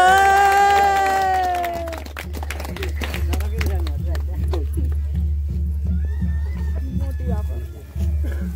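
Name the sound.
people clapping at a wedding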